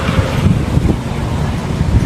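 Wind blowing across a microphone outdoors, a steady loud rumbling gust with no voices.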